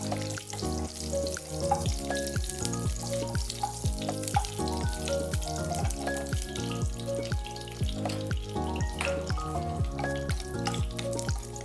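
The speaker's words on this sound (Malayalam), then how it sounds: "ഇപ്പം നമ്മുടെ നെയ്യ് ചൂടായിട്ടുണ്ട്. ഇനി നമുക്ക് അതിലേക്ക് കാഷ്നട്ട് ഇടാം." Steady sizzling and crackling of cashews frying in hot ghee, continuous and close, with occasional light scraping from stirring.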